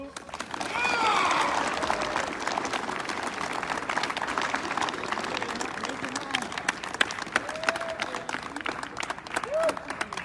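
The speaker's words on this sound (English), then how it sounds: "let's give them a round of applause" A crowd at a 4th Infantry Division awards presentation claps steadily for about ten seconds, dense and continuous, with a few scattered voices and whistles mixed into the applause.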